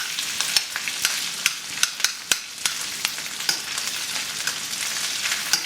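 Bacon fries in a hot skillet with a steady, close crackling sizzle, broken by frequent sharp pops and spatters and occasional stirring clinks, with no talking.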